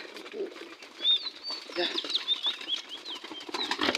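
Pigeons in a cage burst into repeated wing flapping and fluttering, near and fairly loud, with a few faint chirps and coos mixed in and no talk over it.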